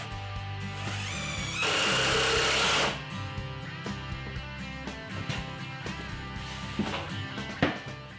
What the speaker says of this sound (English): I'm attaching the back to the 2 sides using pocket hole screws